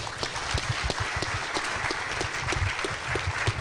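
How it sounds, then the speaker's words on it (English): Conference audience applauding after an analysts panel, moderately quiet, steady clapping with distinct individual claps standing out from the crowd. "You guys, big round of applause."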